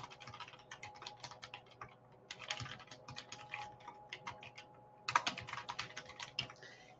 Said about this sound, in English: so if I type in my information,